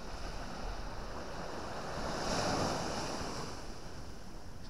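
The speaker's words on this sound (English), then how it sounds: "Little bit of a swell. Just breaking onto the beach." Gentle swell breaking onto the beach at Sutton on Sea on a calm evening sea, a continuous broad wash of surf with one soft swell rising in the middle, mixed with light wind noise and no talking.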